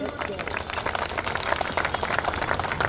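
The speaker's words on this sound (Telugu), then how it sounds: "రాజ్యాంగానికి వ్యతిరేకం అన్న వాళ్ళందరూ ఒకసారి చప్పట్లు కొట్టండి." An audience at a talk on Dalit Christians claps together, a dense, continuous patter of many hands mixed with crowd murmur and some overlapping voices.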